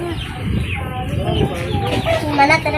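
Several three-month-old gamecocks cluck and murmur nearby, overlapping throaty calls against a background of low outdoor noise.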